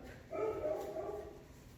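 A dog barks and yips indoors at home, a short burst of a few moderately loud barks that fade off quickly, with no voices over them.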